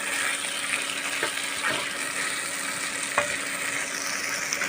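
Tomatoes fry in oil while being stirred for an egg fry with carrot. A constant nearby sizzle runs under a few brief spatula scrapes, with no voices.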